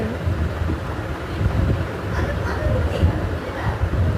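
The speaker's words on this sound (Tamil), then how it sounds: "செம்ம காற்று தெரியுமா, பறத்திட்டே போயிடும்" Strong wind at a beach roars continuously into the microphone as a heavy, rumbling buffeting with no letup.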